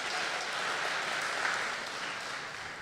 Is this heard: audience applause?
yes